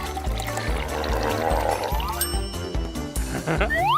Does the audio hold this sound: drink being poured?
yes